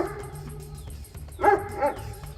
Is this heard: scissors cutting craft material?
no